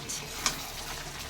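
Mutton frying in its released oil in a covered pot for home-style khashir mangsho, a soft steady sizzle with faint bubbling and one brief clink, fairly close.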